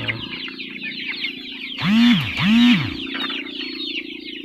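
Joper chickens in a coop, with two distinct loud rising-and-falling clucks close by over a continuous background of fowl chatter and farm noise.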